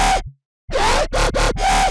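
A basic Massive synth patch built from one wavetable plus noise, a filter, an EQ and distortion plays alone as a loud, buzzy bass tone in several separate hits, the first cut short by a gap of silence, with a vowel-like wah quality.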